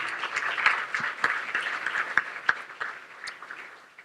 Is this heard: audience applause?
yes